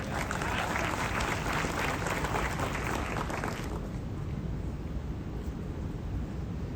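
Audience applause at a lifestyle management program in Ahmedabad, dense steady clapping from a large crowd that is loud and bright at first, then thins and softens into a lower continuous patter.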